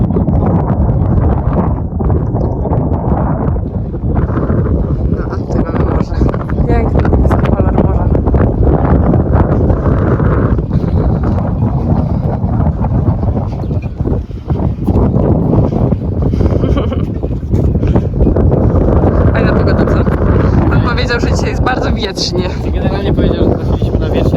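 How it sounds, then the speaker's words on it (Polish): Strong wind at a marina in Cyprus, with moored boats nearby, buffets the microphone in a loud, continuous, gusty roar that lasts throughout. Voices can be heard talking underneath it. "Ale faktycznie jest wietrznie."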